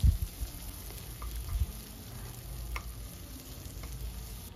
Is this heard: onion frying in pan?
yes